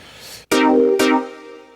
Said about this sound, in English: filtered, it's called Percussive Dance 2